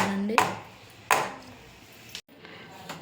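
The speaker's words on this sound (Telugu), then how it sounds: "ఇట్లా పిండి అంతా వేసుకున్న తర్వాత ఒకసారి ఇట్లా ట్యాప్ చేసుకోవాలండి" A bowl filled with vanilla cake batter tapped on a hard surface to settle it, giving four sharp, separate knocks spaced unevenly, close and clear with quiet pauses between.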